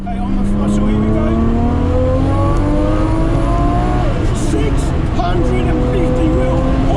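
An RB26-swapped Datsun 240z with a fuel cell and Haltech management, the engine revving hard and loud up through the range in rising sweeps, close and continuous.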